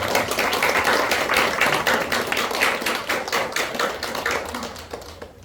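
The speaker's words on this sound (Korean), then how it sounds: "뜨거운 박수로 회장님을 단상으로 모시겠습니다" Audience applause welcoming the chairman to the stage at a founding ceremony for the Deogyang-gu elders' association: dense, steady clapping from the crowd that fills the whole stretch and slowly thins toward the end, with no voices.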